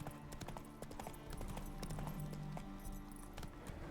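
Roach the horse's hooves clip-clopping in the video game The Witcher 3, a quick steady trot of hoofbeats under game music and ambience, moderately close but low in level.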